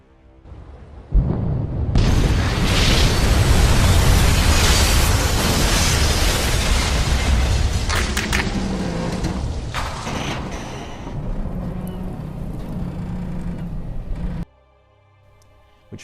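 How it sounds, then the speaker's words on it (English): A loud explosion aboard the hospital ship Britannic, Titanic's sister ship, bursts in after a second of quiet and roars on with crashing, rumbling debris for about thirteen seconds before cutting off abruptly. "at 8:12 a.m. the apparent calm was shattered by the sound of a loud explosion"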